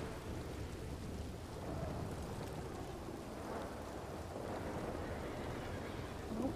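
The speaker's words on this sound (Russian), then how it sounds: "Опять дождь." Steady rain pours down in a Wild West roleplay video game, with a low rumble of thunder underneath, a dense, even wash of sound throughout.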